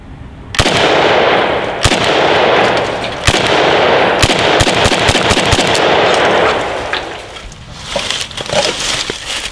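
Repeated gunshots fired at a body armor plate, sharp loud reports in irregular bursts, some rapid strings of shots, over a continuous roar across most of the span.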